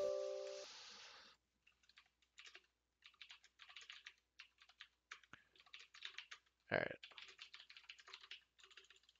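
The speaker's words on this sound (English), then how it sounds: "Wow, I'm having trouble typing today." Typing on a Red Dragon mechanical keyboard: bursts of rapid clicky keystrokes in irregular runs, close to the microphone, with one sharp louder knock midway and a tone at the start.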